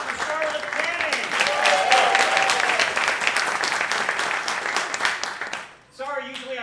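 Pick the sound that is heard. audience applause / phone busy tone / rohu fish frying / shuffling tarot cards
audience applause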